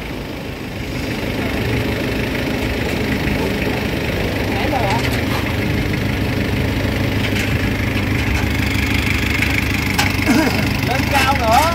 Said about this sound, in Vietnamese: Con này cái máy nổ rất là êm nha cả nhà.